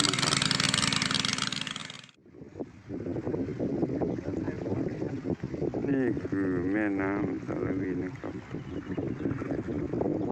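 Boat engine hums on the Salween River near Ban Mae Sam Laep after a sharp break at the start, with wind buffeting the microphone and someone talking over the low motor.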